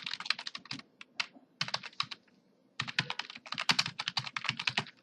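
Code typed on a computer keyboard in quick bursts of crisp, close key clicks, with a brief pause midway before a denser run of rapid keystrokes, no voices.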